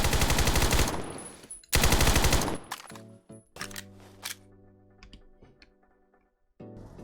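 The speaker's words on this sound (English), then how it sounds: "And this is what the Thompson sounds like." Thompson submachine gun in Phantom Forces fires two loud rapid automatic bursts, followed by metallic reloading clicks and mechanical clatter, with no talking.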